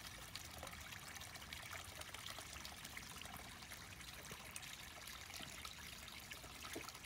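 A 620 gallon per hour Harbor Freight pump moves water in a backyard koi pond, giving a faint, continuous trickling and splashing with no pauses.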